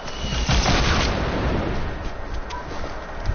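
An RPG rocket fires and explodes in a video game, a heavy boom and rumbling blast that swells early and then decays into a long rolling roar with scattered pops, loud and dense.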